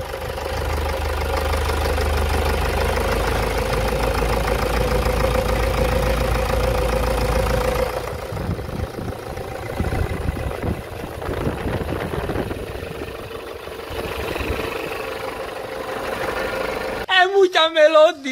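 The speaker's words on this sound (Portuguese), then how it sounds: "vou colocar o celular perto do motor" A Toyota SW4 engine idles with a phone held near it, a steady low rumble for about eight seconds, then rougher, uneven running with a brief burst of other sound at the very end.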